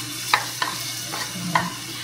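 Onion frying in a hot pan, with a bright close sizzle broken by several sharp stirring scrapes about half a second apart; no talking.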